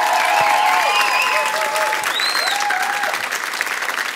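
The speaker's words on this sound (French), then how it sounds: "Sous vos applaudissements, évidemment." Studio audience at a live TV music show applauds steadily as a guest singer is welcomed, dense clapping with a few whistles and cheers rising above it, close and continuous throughout.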